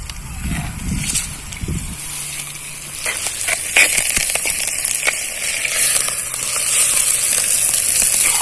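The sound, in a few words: ground masala added to hot oil in a clay pot, sizzling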